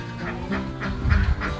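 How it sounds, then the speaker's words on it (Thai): Laying ducks on a duck farm give off a run of repeated quacks in uneven bursts, fairly close and steady in loudness, with a low rumble underneath and no talking. "นี่คือฟาร์มเป็ด"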